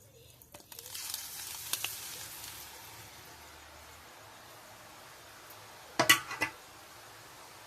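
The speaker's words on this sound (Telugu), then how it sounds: "నూనె కొంచెం వేడెక్కినాక వేస్తే మనం అప్ప వేయగానే సర్రున పైకి వస్తుంది, మంచిగా కాలుతుంది." Appa batter frying in heated oil, a soft steady sizzle at low level with faint utensil clinks and a brief sharper crackle near the end, close by and without talk.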